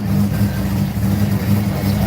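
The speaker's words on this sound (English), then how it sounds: "That's Adam in the Supra." A Supra car's engine hums steadily with a low, even drone as it drives past, fairly loud, with some background noise around it.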